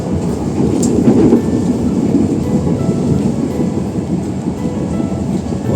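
A train rolls past Cikampek station, heard from on board. A loud, steady rumble carries soft clickety-clack and a brief high squeal near the start.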